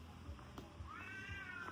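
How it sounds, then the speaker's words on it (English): A cat meows outdoors on a jungle walk in North Bali, with a rising, drawn-out call after a few softer sounds, set against steady background ambience. "Can you hear the cat?"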